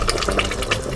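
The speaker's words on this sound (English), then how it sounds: "So you stir" Banga soup is stirred in a pot, a brief close wet sloshing and bubbling of thick liquid lasting about a second.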